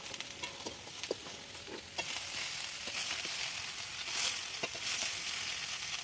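Kohlrabi and beans fry in a pan for a Bengali mixed-vegetable chorchori, giving a steady close sizzle broken by repeated scraping and clattering strokes of a stirring spoon, with no voices.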